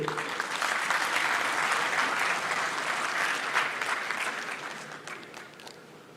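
Audience applause at a Senegalese diaspora event, a full even burst of clapping from a large crowd that gradually thins and fades toward the end.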